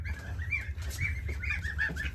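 Geese honk repeatedly in a backyard setting, a string of nasal calls rising and falling close by over a low background hum.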